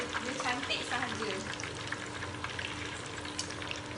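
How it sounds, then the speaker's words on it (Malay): Stuffed tofu (tauhu) sizzles in hot oil in a pan, a steady crackling hiss with light stirring clatter, close and continuous, no talk over it. "Tahu dengan masak keadaan dia ni tengah goreng."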